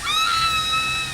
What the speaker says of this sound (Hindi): इसके अंदर है हेयर ड्रायर की आवाज और वो चीख।